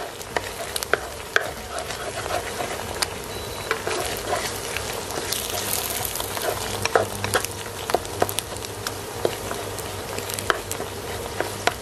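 Salted turnip and egg being stir-fried in a hot pan, a steady crackling sizzle with frequent sharp clicks and scrapes of the spatula against the pan, close and continuous without talk.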